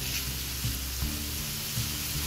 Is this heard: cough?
no